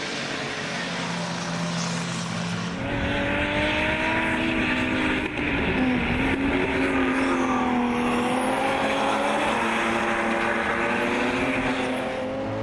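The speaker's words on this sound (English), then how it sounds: "didn't push Van Veen back into the lead as Devil Smith leads the way in Class D on lap 5" BMW race cars lapping a circuit in a club race, with several engines droning and shifting pitch as they pass, loud and continuous throughout with no voices over them.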